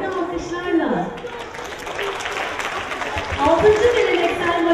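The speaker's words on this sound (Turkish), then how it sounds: "Haydi alkışlarla" An audience applauds students at a primary school award ceremony honoring environmentally friendly schools. The clapping swells over a steady crowd murmur and is mixed with a voice speaking.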